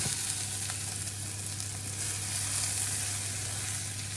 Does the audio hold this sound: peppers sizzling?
yes